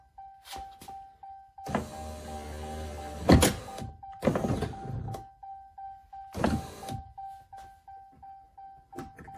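A Ram 1500 truck's power door window glass runs up on its electric motor, with several broad whirring bursts of a few seconds each, separated by pauses, over a faint steady tone.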